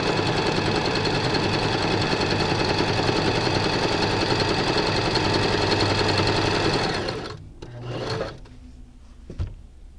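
A mechanical sewing machine stitches fabric with a loud, steady, fast whirring drone that runs continuously, then slows and stops, followed by a few faint mechanical clicks.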